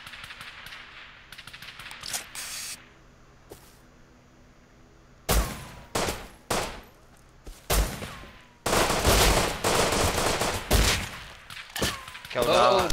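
Gunfire in the survival video game Rust: scattered single shots, then bursts of rapid automatic fire, loud and close, with quieter gaps between the volleys.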